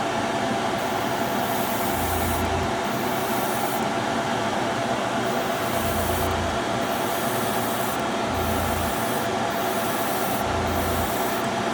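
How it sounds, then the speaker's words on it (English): Iwata Neo airbrush spraying paint inside a running spray booth, a steady loud hiss with short bursts and pauses as light coats are laid down. "with my Iwata Neo. It's my nice little workhorse."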